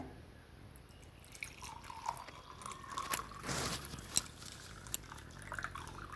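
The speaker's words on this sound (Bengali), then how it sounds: "এই যে এবারে গরম জলটা ঢেলে নেবো কাপের মধ্যে" Hot water poured into a cup for green tea, a faint, close trickle with small drips and splashes building over a few seconds in a quiet room.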